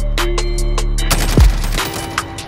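Gunfire in the Call of Duty Warzone video game: a rapid burst of loud shots over a low rumble, followed by scattered further reports and a brief whoosh.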